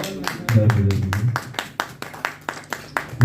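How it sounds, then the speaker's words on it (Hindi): An audience claps for Pawan Mishra at a devotional gathering, with steady rhythmic claps over a low murmur of voices. "पवन मिश्रा जी के लिए एक बार तालियां"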